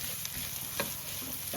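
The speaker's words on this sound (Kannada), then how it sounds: "ಒಂದು ವೈಟ್ ರೈಸ್ನ ಮಿಕ್ಸ್ ಮಾಡಬೇಕು." Cooked white rice is stirred and mixed in a frying pan, with a faint steady sizzle and a couple of brief spatula scrapes, quiet and close, no voices.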